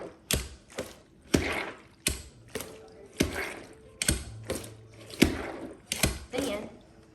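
Repeated whirring, ratcheting spins, each a short burst with rattling clicks, mixed with splashy swishes and occasional talk nearby.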